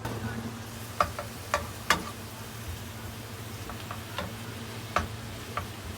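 Chopped onion fries in oil with a soft, steady sizzle, punctuated by a handful of sharp ticks and taps of a utensil against the pan.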